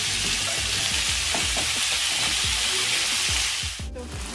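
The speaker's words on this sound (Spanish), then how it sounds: "Voy a freír la carne en batches, que es partes por partes." Batches of meat fry in hot oil, giving a loud, steady sizzle with crackles and light stirring or scraping sounds, close up and with no talking.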